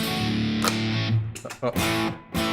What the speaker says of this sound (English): Here's Marshall with reverb